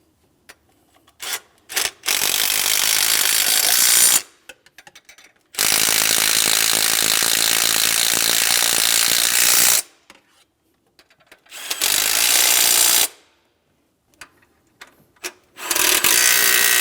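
Ratchet wrench snugging down the power steering pump mounting bolts on a 2007-2014 GMC Sierra 2500 HD, several bursts of rapid clicking separated by short pauses, close and loud, with no talking.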